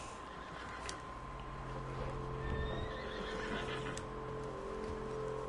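A horse in Red Dead Redemption 2 whinnies in a rising, wavering call over a steady hum of background noise, with faint hoof clatter; no one speaks.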